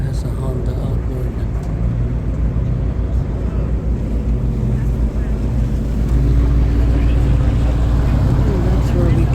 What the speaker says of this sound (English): That one has a Honda outboard.